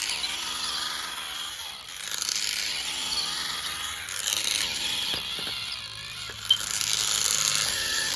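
A worn TrackMaster Percy toy train motor whirs steadily with a high-pitched gear whine and ratcheting clicks, close and continuous, with a single sharp click near the end and no speech.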